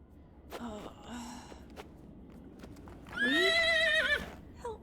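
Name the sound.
horse neighing in a video game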